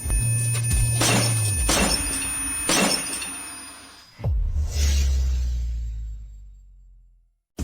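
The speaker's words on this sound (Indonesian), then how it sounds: "Gelas saya pecah karena suaranya." Glass shatters in a dramatic scene where a piercing singing voice breaks glasses: several loud, sharp crashing bursts in quick succession, then a low rumbling whoosh and a final burst that fades into silence.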